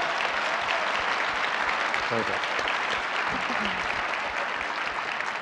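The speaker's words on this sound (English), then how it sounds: "a round of applause, please, for our host committee" A conference hall audience applauds the host committee at an annual education conference's general session. The clapping is dense and sustained from start to finish, and a brief word from a voice cuts through it.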